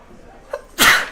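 A single loud sneeze during a live tabletop Star Wars: Legion tournament broadcast, preceded by a brief small breath or sound, standing alone without talk.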